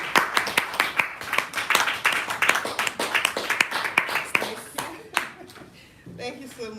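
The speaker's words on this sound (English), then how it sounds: "A resounding round of applause for Toastmaster Olivia Ikeji as she comes up to the lectern." Toastmasters meeting audience claps as a speaker comes up to the lectern, a small group's close, distinct claps in a steady stream that thins out near the end, with a few voices mixed in.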